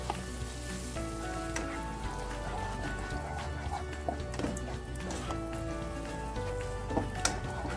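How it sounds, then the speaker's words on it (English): Tomato puree is stirred into a sizzling, spiced fish curry base of ginger garlic paste and powdered spices, a continuous close frying crackle with scattered spatula taps and scrapes, with a faint hum underneath. "I'm going to add the tomato puree. Give it a good stir."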